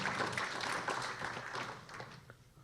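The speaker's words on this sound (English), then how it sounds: "A round of applause for that question." An audience at a town candidates forum applauds briefly after a question, a soft, even patter of many hands that fades within a few seconds.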